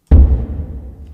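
A single kick drum pitched down an octave and treated with distortion, EQ and reverb: one heavy, booming low hit with a gritty attack that rings out and decays over about a second.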